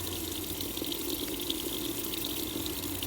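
Running tap water pours steadily into a sink while hands are washed under it, a constant close hiss and splash with no breaks.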